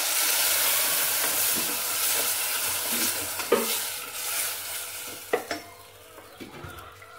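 Masala paste poured into a pan of fried onions for a village-style lunch, starting with a loud steady sizzle that fades as a spoon stirs and clinks against the pan a few times, no voices.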